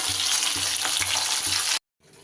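Balia fish fries in hot oil, a loud, dense, steady sizzle up close that cuts off abruptly, then returns faintly, with no voices.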